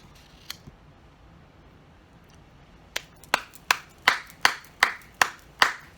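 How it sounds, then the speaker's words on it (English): One person claps slowly and deliberately, about nine sharp, close hand claps in an even rhythm following a couple of faint taps, with no talking. "Charlie started clapping."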